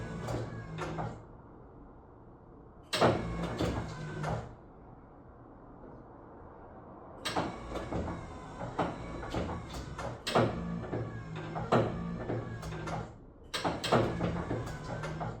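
Retractable pop-up headlights on a Toyota Celica cycling open and closed under individual control, giving repeated bursts of motor whir and clunks in separate episodes with quieter idle hum between them, fairly close.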